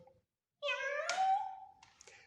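A cat lets out one long, loud, close meow that bends and trails off, followed by a softer short sound, with no talk around it.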